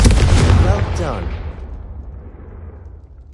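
A blast from the Confringo spell in Hogwarts Legacy, a loud fiery burst that starts strong and trails off into a fading rumble over a few seconds, with speech from the game blended in.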